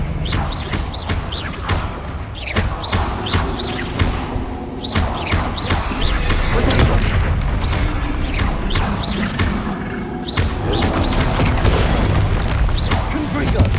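In Hogwarts Legacy, explosive spells go off in quick succession, giving heavy booms and crashing impacts over a dense, continuous battle din, with voices shouting throughout.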